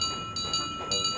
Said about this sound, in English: It has a bell which sounds like this.